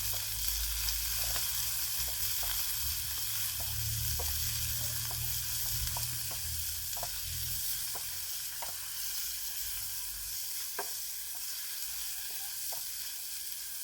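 Moringa egg bhurji with tomato, turmeric and salt sizzles steadily in a hot pan, a constant frying hiss broken by small clicks and scrapes as it is stirred and mixed, with no voices.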